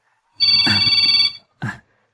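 A cellphone rings with a bright electronic ringtone, one long burst followed after a short pause by a brief second ring, close and loud, in a quiet indoor scene from an Ilocano drama.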